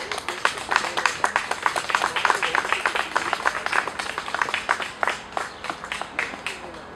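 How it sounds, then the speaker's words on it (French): An audience at a Congo Fort gathering claps for a coordinator, brisk crisp handclaps in a steady flurry, moderately close, lasting the full stretch and thinning slightly toward the end. "Je vous demande de l'applaudir s'il vous plaît."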